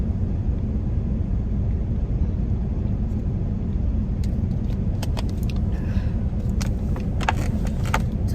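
A car moves off on a muddy road with a steady low engine rumble and road noise throughout, and faint rattles and clicks joining in toward the end. No one speaks.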